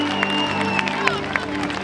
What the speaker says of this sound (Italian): Un applauso, fatevelo.